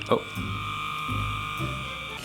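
A handheld cordless vacuum cleaner hums steadily with a high whine and strong suction, close and continuous after a brief bump, while a person speaks over it.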